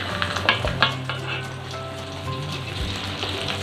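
Eggs sizzle in a pan as they cook for Indonesian grilled eggs, a steady, close frying crackle with a few sharp clinks of a utensil early on.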